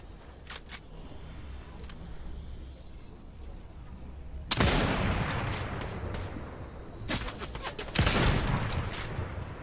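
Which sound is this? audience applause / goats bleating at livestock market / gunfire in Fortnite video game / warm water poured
gunfire in Fortnite video game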